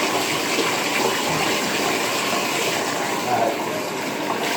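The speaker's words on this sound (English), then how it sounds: "Turn the water off." Tap water gushing steadily while a dog is bathed, a continuous close splashing hiss with faint voices underneath.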